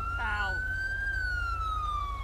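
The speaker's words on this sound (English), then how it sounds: "Who's got their siren on?" A police car siren in GTA V with the LSPDFR police mod wails in one long, slow sweep over a steady engine rumble, with a brief voice near the start.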